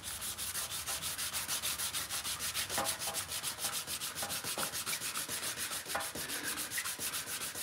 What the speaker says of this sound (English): And you see, I'm sanding the shit out of it